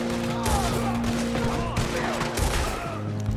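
Rapid gunfire from Red Dead Redemption 2, with bursts of shots cracking over a steady game soundscape and a voice speaking briefly in between.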